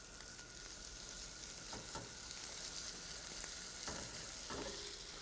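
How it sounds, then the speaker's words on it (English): Onion, pepper and garlic sautéing in a pan, a continuous soft sizzle with a few scraping stirs, close but fairly quiet, no talking. "It's just that we saute the vegetables."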